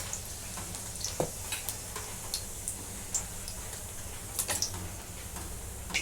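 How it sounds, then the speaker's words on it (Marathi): Cumin seeds sizzle in hot oil in a pan at the start of a green brinjal curry, a steady soft frying hiss broken by scattered sharp pops and ticks, close and alone. "तेल गरम झाले जिरे टाकून घेतले"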